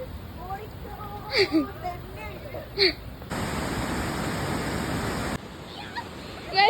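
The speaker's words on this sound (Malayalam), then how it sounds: "ഞങ്ങളുടെ ബാക്കിൽ കണ്ടുകൊണ്ടിരിക്കുന്നതാണ് അരുവിക്കുത്ത് വാട്ടർഫോൾസ്." Aruvikkuthu waterfall pours in a broad steady roar that swells up loud for a couple of seconds, with people talking over the rushing water before and after.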